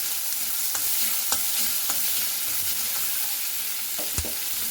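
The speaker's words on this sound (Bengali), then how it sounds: "পেঁয়াজটাকে লাল লাল করে ভেজে নেব।" Onion with black cumin seeds frying in oil, a constant sizzle under occasional scrapes and taps of a spoon stirring in the pan, close and steady, with no voices.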